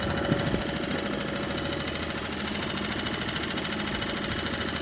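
A boat's engine runs steadily on the River Deben during a bass fishing outing, a continuous droning hum with a rattling mechanical texture, close and loud, holding an even level with no talking.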